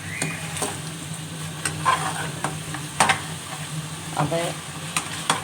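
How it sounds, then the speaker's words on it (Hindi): Garlic, ginger and green chili paste fries in ghee for a white mutton karahi, a continuous sizzle broken by periodic spoon scrapes and clinks against the pan. "अब मैं इसमें ये सही से भून लूँगी गार्लिक और पेस्ट, जिंजर पेस्ट और ग्रीन चिली पेस्ट।"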